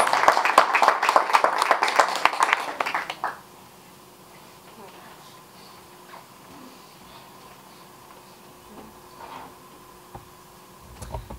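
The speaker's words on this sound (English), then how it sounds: "give her like a warm round, of applause" A warm round of applause from an open mic audience in Dearborn, dense and close for about three seconds, then dying away to a quiet room with a few scattered sounds.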